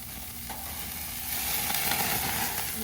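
Meat sizzling on a barbecue grill, a loud, close, steady frying hiss that swells slightly partway through, with no voices.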